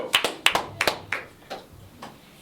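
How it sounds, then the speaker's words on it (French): Scattered handclaps from a small audience at a French-speaking gathering, a handful of sharp claps in the first second thinning to a few spaced, fading claps, with no voices over them. "On applaudit, s'il vous plaît."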